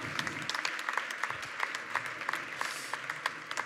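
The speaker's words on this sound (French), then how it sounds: "j'aimerais qu'on les applaudisse toutes" Audience at a startup contest final applauds the finalists: a steady, moderately distant wash of many hands clapping, dense and even throughout with no voices on top.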